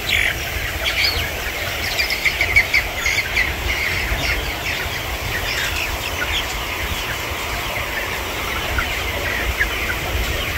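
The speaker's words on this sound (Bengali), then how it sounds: "অনেকগুলো মুরগি।" A flock of many chickens on a poultry farm squawking and clucking together, with repeated sharp calls over a steady, busy background murmur of the birds.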